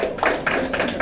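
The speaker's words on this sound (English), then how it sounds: "You're clapping for me." Brief burst of clapping at a Miss Muslimah Ghana audition, a few people applauding in quick, uneven bursts for about a second, fairly close, with no talk over it.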